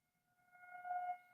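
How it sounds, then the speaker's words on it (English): A civil defense style siren wails outside, a steady tonal howl that swells louder over a second or so, heard faintly through walls with no talking. "Just a siren going on outside."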